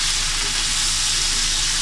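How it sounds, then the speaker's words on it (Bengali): Cut, washed beans drop into a dry fish masala frying in a pan, raising a loud, dense, unbroken hiss of sizzling oil. "এবারে এ পর্যায়ে দিয়ে দিব কেটে এবং ধুয়ে রাখা সিম।"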